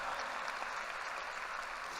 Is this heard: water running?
no